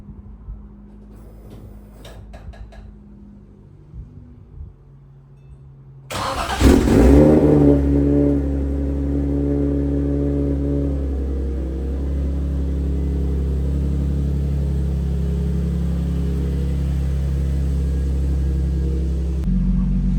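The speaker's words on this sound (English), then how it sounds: "car started up and starts up way faster than before too. Car's running good." A single-turbo Infiniti G35 engine cranks and fires at about six seconds, then settles into a steady, loud, close idle that runs unbroken for the rest of the clip, with quieter clicks and handling sounds before the start.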